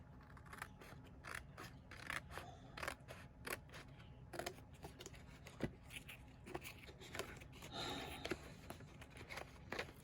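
Scissors snipping through layered material, a quick run of sharp, close crisp cuts repeating irregularly over a low background hum.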